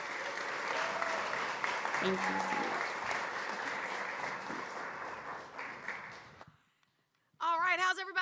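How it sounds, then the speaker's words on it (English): Summit audience at SXSW gives a sustained round of applause, a dense crowd clap that fades to silence before a voice speaks briefly at the end. "please give them a round of applause"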